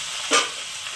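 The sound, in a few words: sautéing spices with turmeric and chilli in a pan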